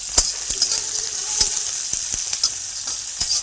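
Chopped onion and green chili sizzle in hot oil with mustard seeds and cumin, a steady fry broken by sharp pops and the scrape of stirring, close and fairly loud with no talk.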